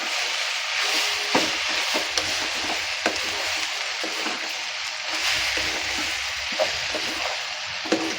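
Potato palya for masala dosa being stirred by hand in a pan, with coriander leaves just added, giving a steady soft scraping and shuffling texture with a faint sizzle throughout, no talking.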